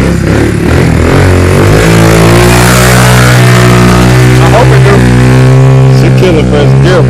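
A motorcycle engine roars loud and close as a little sister rides for the first time in first gear, a steady droning note with rising revs near the end, and voices call out over it.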